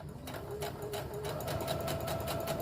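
A sewing machine runs steadily, stitching and back-stitching the corner of a pillowcase seam with a 1/2 inch seam allowance, a fairly quiet continuous whir with rapid needle ticks throughout.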